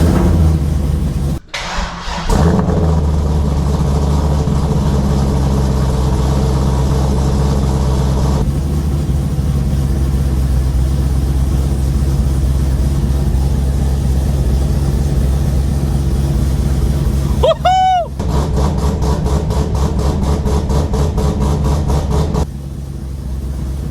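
A Corvette with a swapped engine cranks briefly, catches and settles into a loud, rumbling, steady idle close by. A quick rising whine follows late on before the engine note shifts and drops away.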